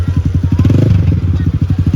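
A motorcycle engine revs hard and close as it climbs up out of a river, with a rapid pulsing chug as it labors under load, loud and continuous.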